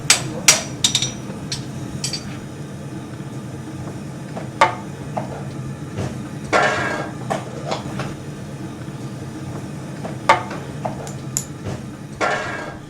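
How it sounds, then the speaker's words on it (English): Farrier hammering nails through a horseshoe into a horse's hoof: sharp metallic taps in irregular bursts over a steady low background hum, moderately close. "One of the real skills of the farrier is nailing the shoe to the hoof."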